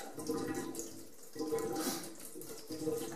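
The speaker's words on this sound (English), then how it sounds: "if I pull on it, it's going to drain some more water" Water drains from a natural gas tankless water heater into a bucket, a soft, steady trickling and splashing in pulses, fairly quiet and close.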